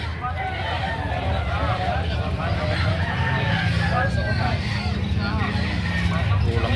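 A two-year-old banderado rooster crows at a busy chicken market in Lemery, Batangas, the crow rising amid clucking, crowd murmur and people talking nearby.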